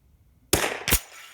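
A Ruger .22LR rifle fired at a target, a sharp close crack followed a moment later by a second crack, with a short outdoor echo.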